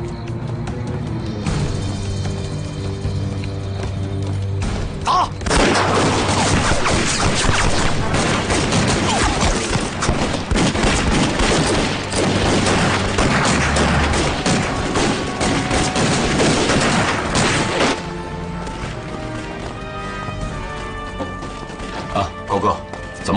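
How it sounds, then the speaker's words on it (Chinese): Troops fire guns outside a surrounded compound in a dramatized war scene, sustained volleys of shots crackling for over ten seconds, with voices talking before and during the shooting. "正在外面开枪挑衅呢。"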